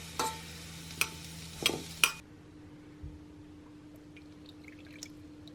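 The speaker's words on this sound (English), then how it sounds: "Really doesn't take long to melt, just keep giving it a good stir until it's all nice and melted." Unsalted butter melts in a pan as a spoon stirs it, with a few sharp scrapes and clinks near the start and then a quiet, faint sizzle that continues alone.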